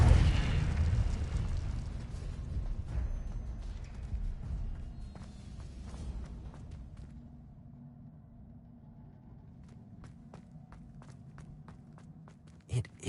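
In Hogwarts Legacy, a fire spell erupts with a deep, rumbling blast right at the start, then a low burning roar trails off under scattered footsteps and small clicks.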